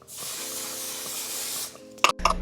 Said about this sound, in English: lock everything in with my One Size setting spray